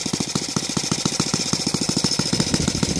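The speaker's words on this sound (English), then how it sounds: "So right now it's idling around 1700 RPMs, and as you can see, it runs on gasoline 20-1," Saito FA 115 four-stroke model airplane engine converted to run on gasoline with a 20:1 mix, idling near 1700 RPM with a glow-style carburetor and muffler pressure, giving a steady, rapid, even chugging pulse at close range with no talking.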